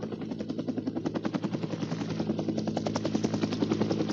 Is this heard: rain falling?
no